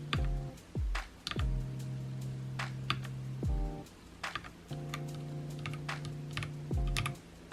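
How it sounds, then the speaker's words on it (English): Keys clack on a computer keyboard at a home desk late at night, irregular bursts of crisp, close taps over soft humming tones. "This is my keyboard. It feels very nice."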